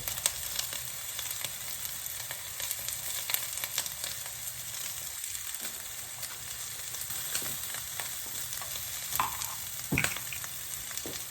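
Vegetables frying in a pan on the stove with Cajun spice sprinkled over them, a continuous close sizzle with occasional stirring scrapes and clicks, and no talking.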